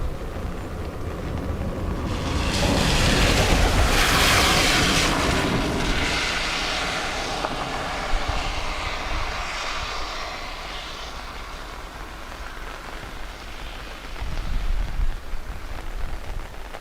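A Lauda Airbus A320, owned by Ryanair, roars past at Dublin Airport in wet weather, the engine noise swelling early and then fading into a long rumbling wash with no talk.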